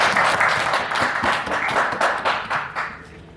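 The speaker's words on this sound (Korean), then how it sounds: "여러분들 위해서 또 박수 한번" An audience at a 2023 audio expo claps together in a loud, close burst of applause that holds for a few seconds with uneven pulses, then begins tapering off.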